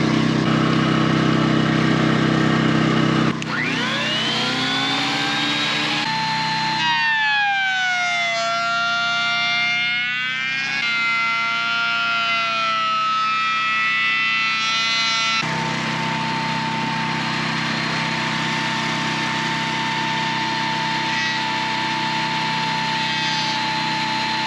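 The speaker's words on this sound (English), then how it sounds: "So we're just running the generator out of fuel" Generator engine running down as it runs out of fuel, a steady close drone whose pitch rises, wavers and surges unevenly, then settles back into a continuous hum.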